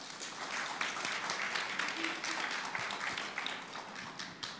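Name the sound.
audience applause welcoming a speaker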